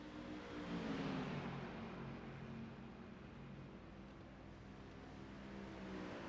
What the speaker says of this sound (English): And those GT4 Mercedes sound really good.